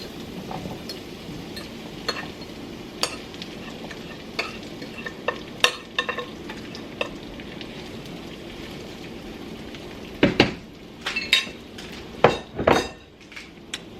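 A steady crackling sizzle of yellow summer squash frying in oil in a pan, close by, with occasional sharp metallic clinks and scrapes of utensils against the pan.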